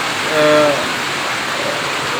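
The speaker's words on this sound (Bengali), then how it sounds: "এগারোটা এগারোটার দিকেই বৃষ্টি শুরু হয়েছে এবং হালকা বাতাস রয়েছে জড়ো হাওয়া রয়েছে এবং বৃষ্টি পড়ছে" Rain falls steadily with a light wind during a storm in Naria, Shariatpur, a continuous even hiss of close, dense rainfall with a brief voice-like tone near the start.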